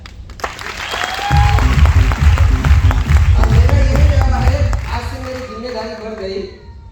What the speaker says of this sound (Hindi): यहाँ पे जितने भी ताली बजाए ना